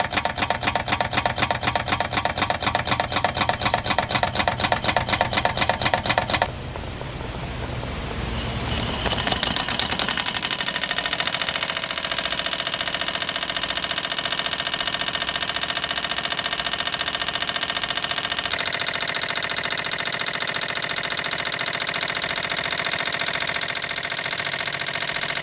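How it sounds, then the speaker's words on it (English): A small Stirling engine built from soda cans and heated by a candle runs with a fast, steady mechanical ticking and clatter that later blends into a dense continuous whir, close and fairly loud. "This person created a Stirling engine made out of soda cans and a candle."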